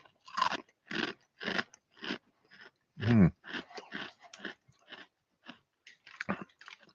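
Glico Cheeza smoked double cheese and black pepper crackers from Japan crunched in a close-up series of sharp, brittle bites, with one louder shattering crunch midway and a soft murmur of appreciation.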